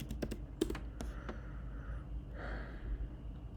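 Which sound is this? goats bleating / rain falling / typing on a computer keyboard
typing on a computer keyboard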